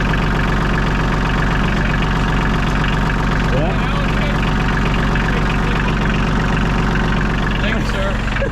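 A tractor with a hydrostatic drive idles loudly and steadily close by with a rough, low rumble, while a person briefly speaks over it.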